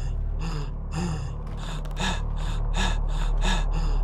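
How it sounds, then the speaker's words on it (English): Repeated gasping pants from a video game character who has run out of stamina during a run prototype, about eight breaths in a steady rhythm over a low constant hum, close and alone. "once you use up all your stamina, you have like a little asthma attack and you have to stand there and pant"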